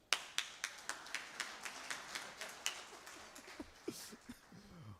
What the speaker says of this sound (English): Let me clap for you guys.